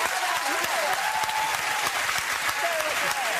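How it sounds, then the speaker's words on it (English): An audience breaks into steady, dense applause that holds at an even level throughout, with faint voices mixed in beneath the clapping. "I got the quick clap."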